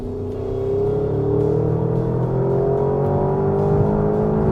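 A Porsche Cayenne Turbo GT engine runs at full power after the Sport Response button is pressed, a loud, deep drone whose pitch climbs steadily as the SUV accelerates, heard from inside the cabin.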